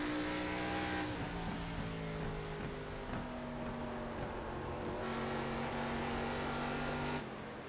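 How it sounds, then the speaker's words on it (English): Race car engines in a racing video game, racing at Iowa Speedway, drone continuously with sustained harmonic whine, shifting pitch as gears change, loud and steady throughout, cutting off near the end. "by the sounds of it, Christian Budd's starting to step it up a little bit here"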